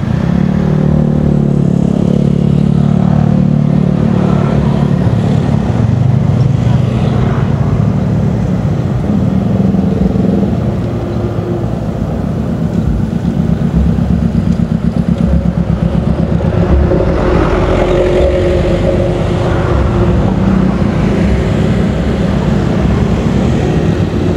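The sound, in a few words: car passing on a road beside concrete paving works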